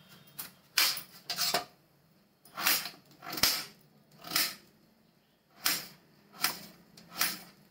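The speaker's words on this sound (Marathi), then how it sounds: "बटाटे चिरून घेते।" Potatoes are chopped with a knife on a cutting board, giving sharp, isolated knocks in small clusters separated by brief pauses, close and fairly quiet with no talking.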